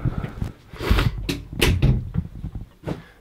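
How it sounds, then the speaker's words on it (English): A door shutting in a small basement room, heard as a few close knocks and thuds of the door and frame without talking. "close the door."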